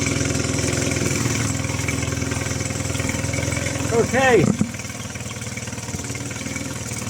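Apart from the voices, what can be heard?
Mercury 9.9 outboard engine idling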